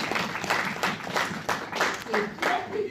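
A church congregation applauds in uneven bursts of clapping at moderate distance. Voices are heard over and between the claps.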